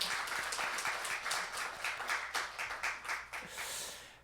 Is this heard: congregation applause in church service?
yes